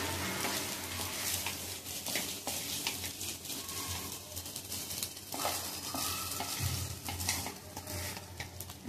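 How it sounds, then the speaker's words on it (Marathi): Sabudana khichdi is stirred in a pan with steady scraping strokes over a low, constant sizzle, broken by occasional metallic clinks of the spoon against the pan. "आपण हे साबुदाणे. छान मिक्स करून घ्यायचं."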